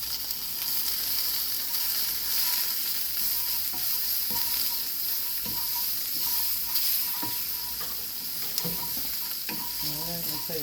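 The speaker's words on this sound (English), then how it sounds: "I'm gonna put some butter in my pan." Butter and eggs sizzle steadily in a frying pan, a continuous close crackling hiss with occasional utensil taps and a brief voice near the end.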